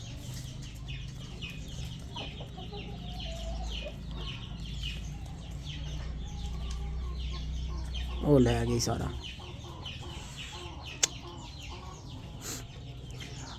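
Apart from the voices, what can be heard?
chickens clucking on a farm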